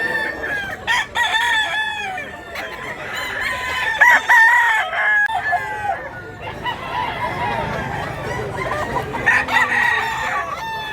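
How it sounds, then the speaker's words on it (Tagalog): Chickens and roosters at a Philippine fowl yard cluck and crow repeatedly and loudly, several birds overlapping close by, with brief human voices in the background. "Gandang manok."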